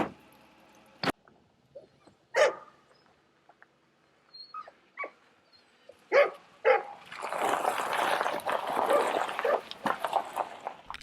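A Labrador retriever in a kennel setting gives several sharp barks and short yips early on, followed by a longer stretch of dense whimpering and rustling near the end, fairly close and moderately loud with no talk.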